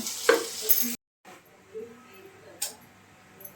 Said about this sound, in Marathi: बटाटा टाकला आहे आता फ्राय करायला मुलांचं फ्रेंडची फ्रेंड आता फ्राय होत आहे मी मिरच्या टाकल्या आहेत आणि कढीपत्ता